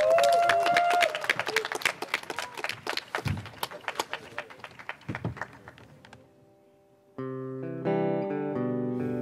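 An audience at a talk concert claps to welcome a female singing duo on stage: dense applause at the start thins into sparser claps and fades out, then music begins.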